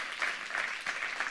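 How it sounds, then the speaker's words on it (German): Audience applause at a German business talk on personal branding rises and falls in short waves of clapping from a small crowd, fairly faint and heard without speech. "Also nochmal Applaus für die beiden"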